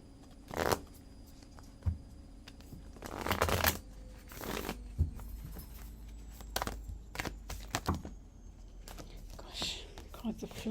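Tarot cards are shuffled in short, brisk riffling bursts, close and crisp, separated by quieter gaps with soft background sounds.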